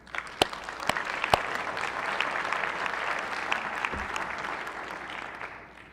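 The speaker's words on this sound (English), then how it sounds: "How about a nice round of applause for Physician Assistant Lindsay Hayes?" Applause fills a state senate floor session, with a few sharp individual claps standing out near the start before the clapping settles into a steady, fairly close wash that tapers off at the end.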